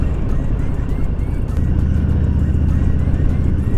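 A loud, steady engine and wind rumble from a motorcycle on its first test ride after being finished in Texas, continuous and close throughout.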